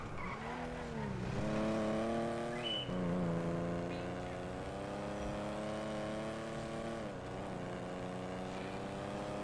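Car driven in GTA V, its engine roaring steadily with rising and falling revs and gear shifts, close and loud throughout, a brief tire squeal near the start, no talking.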